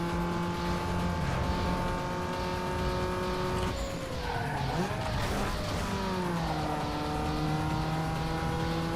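A Mazda Miata engine drones steadily at high revs in Need for Speed Underground 2, with tire squeal and pitch shifts through a corner midway, loud and continuous.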